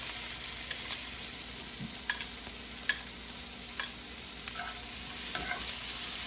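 Chopped garlic sautéing in bacon fat for a keto green bean casserole, a continuous steady sizzle with occasional light clicks and scrapes of a utensil in the pan, no voices.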